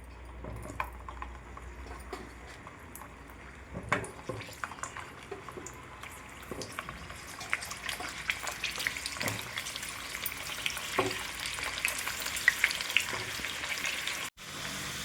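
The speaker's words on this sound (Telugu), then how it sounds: "ఆయిల్ వేడైన తర్వాత ముందే ఘాట్లు పెట్టుకున్న ఉసిరికాయలను వేసుకోవాలండి." Slit amla (Indian gooseberries) fry in hot oil with a steady close sizzle, broken by occasional clicks and scrapes of stirring. The crackle grows busier and louder toward the end, with no voices.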